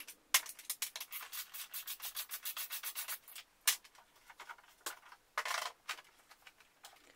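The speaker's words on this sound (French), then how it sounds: "il faut retirer toutes les vis qui maintiennent le bloc de selle" Screws are backed out of a scooter's rear fairing and seat unit: quick rhythmic ratcheting bursts come in runs, with brief pauses and a few sharp clicks, close and quiet, with no voices.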